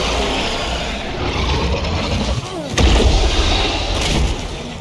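Dense rumbling bursts and crackling blasts of thrown molotov cocktails in State of Decay 2 fill the air, with a sharp whooshing burst midway over constant noisy background, loud and chaotic.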